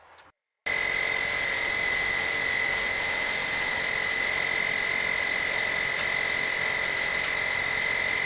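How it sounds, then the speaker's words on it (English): A small air compressor that has quit holding air runs with a steady, loud motor drone and a constant whining tone, starting abruptly after a short moment and continuing unchanged with no talk. "Our air compressor quit holding air."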